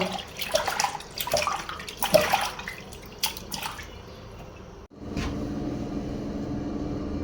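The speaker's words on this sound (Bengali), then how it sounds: "এখন ধুয়ে রাখি সুন্দর করে পরিষ্কার করে" Tap water runs while dishes are washed at a kitchen sink, with splashing and clinks of dishes at first, then a steady stream of running water.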